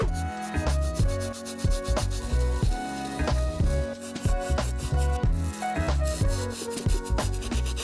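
A stiff bristle brush scrubs the hard rubber sole of an Adidas Samba sneaker in quick back-and-forth strokes, a close, loud rhythmic rasping with no voices.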